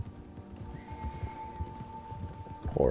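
Horse in Red Dead Redemption 2 neighing and clip-clopping in a cold setting, hoof beats close and steady with a neigh rising near the end.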